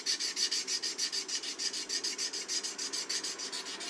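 A sashimi knife stroked back and forth on a whetstone to polish away small rust spots makes a quick, rhythmic rasping scrape, about six strokes a second, close and fairly quiet, with no speech.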